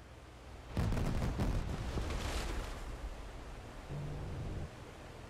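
A heavy warship gun blast in the naval combat game DCS World, a sudden loud boom with a rumbling tail that fades over a couple of seconds, followed by a lower, muffled second rumble.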